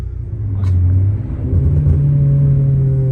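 A car engine is revved hard at full throttle up to about 4500 rpm, a loud, close rumbling roar that climbs and then holds at a high steady pitch, with no talking.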